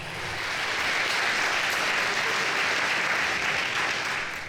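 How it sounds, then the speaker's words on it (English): A crowd at a school athletics signing day applauds the athletes and their families, a full, continuous wash of many hands clapping that swells quickly and holds steady for the whole stretch. "first round of applause for our 9 athletes and their families for being here today"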